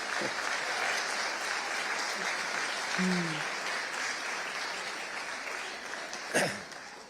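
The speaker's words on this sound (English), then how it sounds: "So let's give them a round of applause." Steady applause from a crowd fills the whole stretch, dense and even, with a brief louder clap burst near the end.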